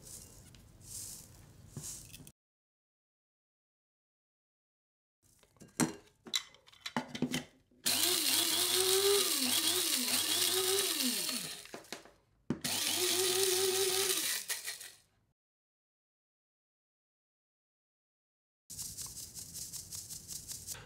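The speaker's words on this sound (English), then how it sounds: "And what we're gonna do with those is just grind those again, right?" A blade coffee grinder whirs loudly through two bursts of about seven and three seconds, regrinding coffee for a finer result, its motor pitch wavering as the beans are pulsed, with quiet pauses and faint handling noise between.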